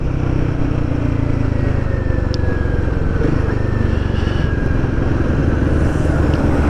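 A Royal Enfield Guerrilla 450 motorcycle cruising in fourth gear at about 4,000 rpm and 38 mph, its engine giving a steady, close, fairly high-revving drone mixed with wind rush throughout.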